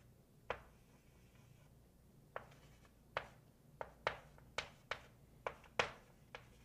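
A hand sketches a region on paper, producing faint, sparse scratching strokes, roughly one per second, over a quiet hum.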